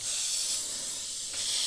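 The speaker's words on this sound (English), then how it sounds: "Starting off with some broad spray, and you can see it's straight away nice and smooth." An Iwata HP.C Plus airbrush sprays paint in a steady, smooth, close hiss that runs the whole time, with a slight dip and a small jump near the end.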